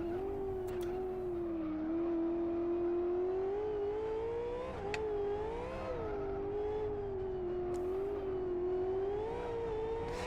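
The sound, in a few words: V8 race car engine revving in the video game Live for Speed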